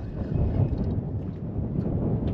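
Strong wind buffeting on open water during a fishing trip, a continuous low rumbling roar of gusts against the microphone, loud and close throughout.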